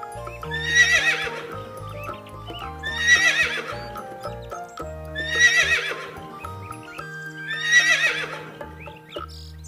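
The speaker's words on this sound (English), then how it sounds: "H for horse." A horse neighs four times at regular intervals, each whinny loud and close, with soft clip-clop hoofbeats and a sustained musical backing underneath.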